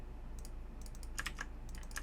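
Keys on a computer keyboard clatter in a quick, uneven burst of taps, faint and close, with no talking.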